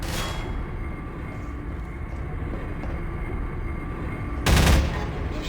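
Gunfire in the first-person shooter Half-Life 2, a short burst of shots near the start and another loud burst near the end over a steady game-ambience rumble.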